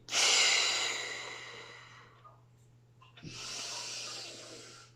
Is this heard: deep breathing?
yes